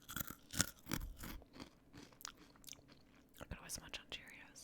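Crisp crunching and chewing of Honey Nut Cheerios breakfast cereal, close and intimate in an ASMR-style recording, with bursts of crunches at the start and softer chewing and faint whispers afterward.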